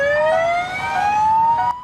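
Police car siren wails in a steady rising tone, loud and close, with no voices over it.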